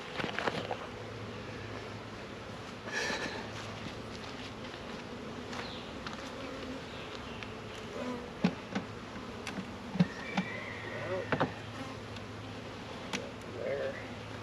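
Package bees hum in a steady, low drone throughout a hive installation, with scattered clicks and knocks from handling equipment close by.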